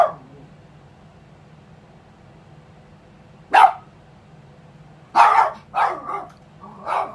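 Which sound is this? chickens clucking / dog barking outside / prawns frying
dog barking outside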